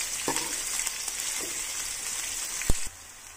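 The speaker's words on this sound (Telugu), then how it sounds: "వీటిని బాగా ఫ్రై చేసుకుందాము." Green chillies and mutton frying in a pan give a soft, even sizzle close by, broken by a few sharp pops and a utensil knock near the end before the sound drops.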